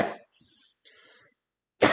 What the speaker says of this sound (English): One second, I have to cough.